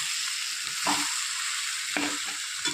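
Spices sautéing in a pan with taro root and prawns, giving a steady, fairly loud sizzle with two brief spoon scrapes rising over the hiss.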